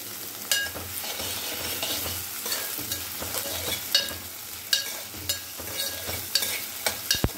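Garlic cloves and onion frying in a couple of teaspoons of oil for a dosa chutney, a steady close sizzle with occasional sharp spatula scrapes and stirring clicks, no talking.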